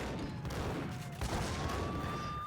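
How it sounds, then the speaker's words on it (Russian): Shotgun fire in the Max Payne video game, a dense loud burst of gunfire and game sound effects filling the whole stretch over a steady tonal background, with no talking. "в него выстрелить из дробовика, когда мы вот только-только получили вижен на него"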